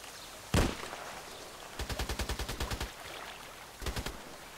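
Gunshots in the online shooter Contract Wars on a lighthouse map: one sharp single shot, then a quick burst of about ten rapid rounds, and a short final burst of three or four, fairly faint against quiet background.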